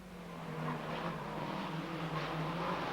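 1980s touring cars racing round a circuit near the barriers, with a continuous engine drone and roar that swells slightly as the cars streak past.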